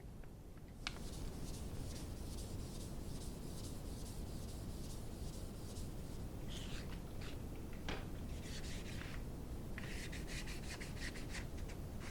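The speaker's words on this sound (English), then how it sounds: "the next step in the process is going to be wet sand with 600." A vintage Pep Boys metal tool box is wet sanded by hand with 600-grit paper, a steady close rubbing hiss with a few sharper scuffs and strokes, no talk.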